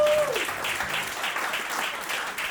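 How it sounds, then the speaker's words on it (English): A comedy club audience breaks into steady, fairly loud applause with a brief whoop at the start, sustained clapping throughout. "how about a round of applause for those guys?"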